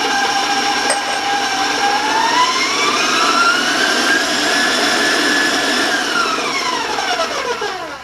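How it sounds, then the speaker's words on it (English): Electric stand mixer running at high speed, creaming an egg with shortening and butter into ginger cookie dough; a loud, steady motor whine with rising and falling pitch, close and continuous without talk. "I'm going to turn my mixer up a little bit higher to move it"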